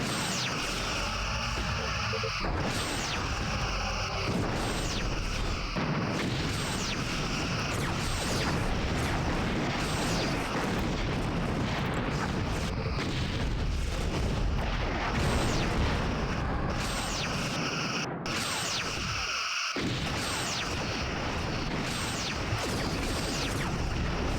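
Torpedo blasts in the space combat game Star Trek: Bridge Commander, a dense, continuous roar of booming explosions and crashing impacts that stays loud for the whole stretch, with a brief dropout near the end.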